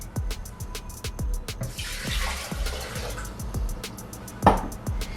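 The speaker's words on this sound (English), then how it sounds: "So I'm gonna start off by adding the 2 cups of cold water." Two cups of cold water are poured into a Vitamix blender jar, a close splashing gush over a run of hollow clunks and taps, then a final sharp knock.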